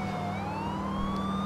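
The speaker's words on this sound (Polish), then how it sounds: "Gonimy go radiowozem." Police car siren from GTA IV during a highway chase, a steady wailing tone sweeping slowly upward over a constant engine drone, loud and continuous with no talk.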